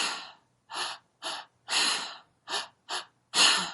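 Forceful breaths pushed out through the mouth during active breathwork, seven separate bursts of varying length with short pauses between them, close and alone with no talking.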